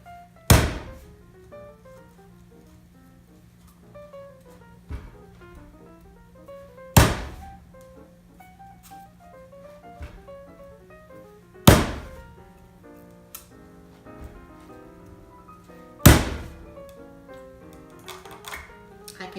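Young coconut struck hard to open it: four loud, sharp thunks spaced several seconds apart, each with a quick decay, with small taps and scrapes between the blows and no talk.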